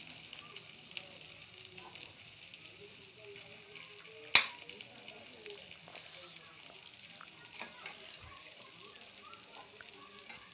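Okra frying in a pan over medium gas, with a steady, soft sizzle throughout, one sharp clink partway through and a faint voice talking under it.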